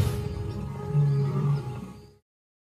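An African lion gives a deep, rumbling roar, a single sustained call swelling in the middle and fading out, heard fairly close and alone.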